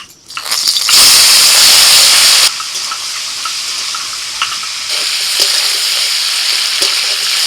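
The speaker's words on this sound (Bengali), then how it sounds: "সব চিংড়ি মাছটা একবারেই দিয়ে দিচ্ছি কড়াইতে।" Prawns dropped all at once into hot oil in a wok burst into a loud, steady sizzle that hisses strongly at first, then settles into a slightly quieter continuous frying crackle.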